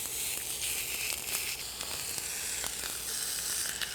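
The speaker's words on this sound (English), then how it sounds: "So we're going to sear this meat" Ground organ meat sears in a hot pan with a steady, close sizzle. Faint crackles and spatula ticks run through it, and no voices are heard.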